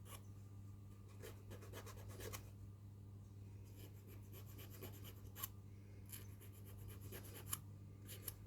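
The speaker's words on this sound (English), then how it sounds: "need to file the burrs from off the edges and around the sides" Hand file scraping burrs off the edges of a metal piece: faint, intermittent rasping strokes in short clusters over a steady low electrical hum.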